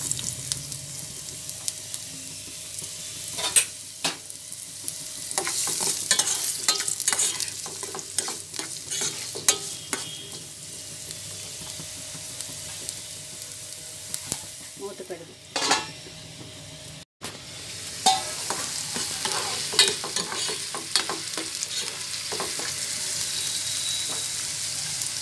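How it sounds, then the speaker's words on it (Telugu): Small-cut onion fries in three tablespoons of oil for mutton keema, a steady sizzle broken by frequent stirring scrapes and clinks of a spoon against the pan. "3 టేబుల్ స్పూన్లు ఆయిల్ వేసుకుని చిన్నగా కట్ చేసిన ఒక ఆనియన్ పెద్ద"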